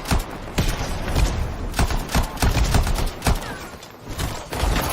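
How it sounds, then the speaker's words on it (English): A grenade explosion in the video game Anthem goes off amid a barrage of in-game gunfire and impacts, a loud, dense run of thuds and blasts. "Perfect spot for a grenade."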